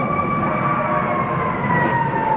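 A fire engine siren wails nearby in a residential neighborhood close to a fire station, a loud continuous tone sliding slowly downward with rumbling traffic underneath.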